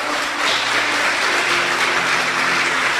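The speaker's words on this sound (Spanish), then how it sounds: "Vamos a darle otra ofrenda de aplausos al Señor." A church congregation applauds in praise during a worship service, a steady, dense wash of clapping filling the whole stretch at even loudness with no talk over it.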